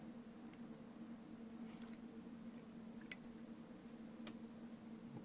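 Wet plaster cloth strips being laid and pressed into a second layer, giving faint, soft squishes and small wet pats over a steady low hum.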